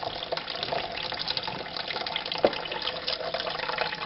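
Water from cooked macaroni is poured off into a sink without a colander. It makes a steady, close splashing rush that runs continuously, with one brief louder splash partway through.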